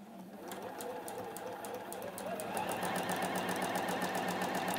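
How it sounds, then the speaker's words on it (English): A sewing machine stitches two fabric pieces together with a rapid, steady mechanical chatter that speeds up partway through. A person talks quietly over it. "I'm going to sew these two together now"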